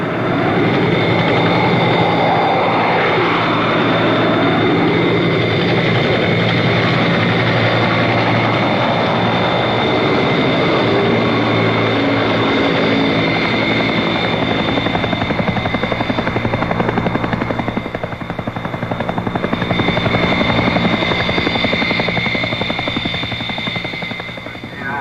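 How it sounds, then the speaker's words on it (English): Chinook helicopters of a military tactical transport company fly in, a loud, continuous rotor and engine roar with a steady whine on top, holding close and strong across the whole stretch. "they're lifted in by Chinook helicopters of the brigade's Tactical Transport Company"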